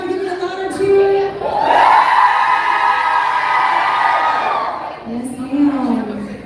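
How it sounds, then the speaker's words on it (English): People at a live motivational event let out a louder cheer on request, a sustained wave of whooping voices that rises quickly, holds strong for about four seconds, then fades into a short second swell. "Give me a louder cheer."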